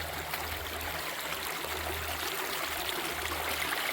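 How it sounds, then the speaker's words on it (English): Water running through a gold prospecting sluice at a low-water river, a steady close rushing trickle and gurgle with a faint low hum beneath, no talk. "She's up here feeding her little bucket through the sluice."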